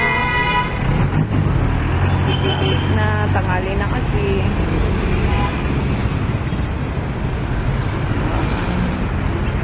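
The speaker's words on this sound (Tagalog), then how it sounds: "Traffic" Busy city street traffic in Taguig with short car horn toots early on, a constant roar of engines and road noise, and someone speaking briefly over it.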